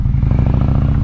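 A motorcycle engine revs as the throttle is twisted open, a brief, loud, close rumble with rapid low firing pulses.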